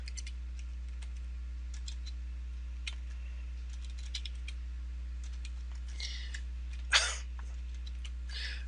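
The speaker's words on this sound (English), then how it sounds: "Oh man, my typing." Quiet keyboard typing clicks away in scattered bursts over a steady low hum, with a sharp louder noise near the end.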